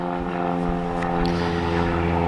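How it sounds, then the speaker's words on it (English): A propeller plane passes overhead, a steady droning engine hum with strong tonal layers that holds throughout at moderate distance. "I got a plane flying overhead."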